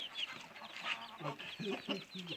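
Soft clucking from a village hen mixes with high, thin peeping from ten-day-old chicks, close by and continuous, in a garden.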